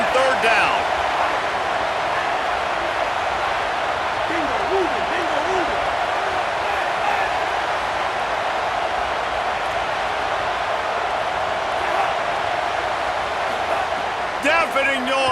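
Home crowd roaring in EA Sports College Football 27 on a third-down defensive stand, a dense, constant wall of stadium noise with steady intensity throughout, under commentary.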